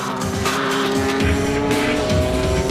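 An Esso Supra GT race car in a JGTC race with a punctured rear tire and a damaged rear fender. The engine drones loudly and steadily as the car loses speed, with tire scrubbing and squeal mixed in.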